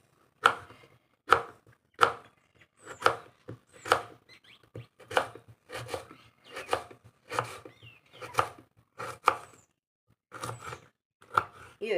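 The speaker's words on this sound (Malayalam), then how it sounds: "നമുക്കൊന്ന് ചെറുതായിട്ട് ഇങ്ങനെ നീളത്തിലൊന്ന് അരിയാം." Knife chopping raw mango into small pieces on a board for a spicy mango pickle, steady crisp thuds repeating about twice a second, close and clear with no talk.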